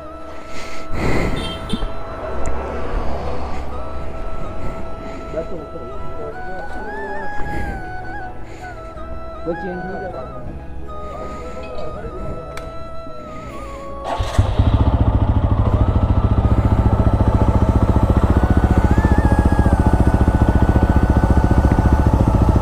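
A motorcycle with a loose chain idles and revs loudly with a clattering, rattling mechanical noise, growing to a steady heavy roar in the second half.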